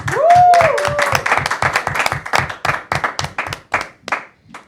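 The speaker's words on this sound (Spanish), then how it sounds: "a la cual recibimos con un fuerte aplauso en esta carga de fe" Hands clapping in a steady, even rhythm at close range to welcome a speaker at a faith gathering, about twenty distinct claps slowing and thinning toward the end, with a brief voice or whistle-like tone at the start.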